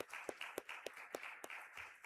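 A church congregation claps together in a steady rhythmic beat, roughly every quarter second, with the claps blending into a soft, even applause throughout.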